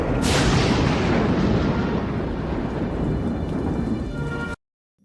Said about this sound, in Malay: Tiba-tiba, kilat saling menyambar di atas langit.